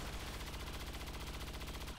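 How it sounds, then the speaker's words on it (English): A gunshot from the video game XCOM 2 is a dense, sustained burst of firing that lasts about two seconds, loud and close, and it stands alone with no talk over it. "Panda, take a shot."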